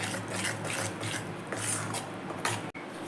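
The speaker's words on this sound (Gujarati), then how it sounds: "એની અંદર આપણે શેકેલો લોટ નાખી દઈશું સરસ રીતે મિક્સ કરી દઈશું" Roasted flour being stirred into melted jaggery for sukhadi, a quiet rhythmic scraping and rubbing of a spoon against the pan in repeated close strokes, with no talking.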